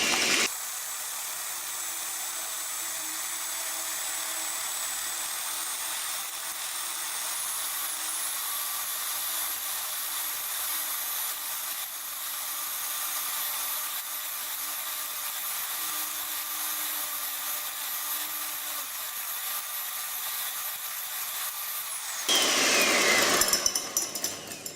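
An electric hand mixer whips egg whites for a meringue, a steady high whirring drone that runs unbroken for about twenty seconds before a brief louder clatter at the end, with no talking.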